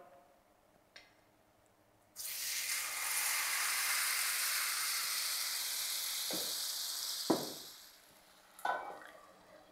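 Wheat-flour vegetable batter hits a hot tawa and breaks into a loud, steady sizzle that holds for several seconds, with a few scraping spoon and utensil clunks before and after.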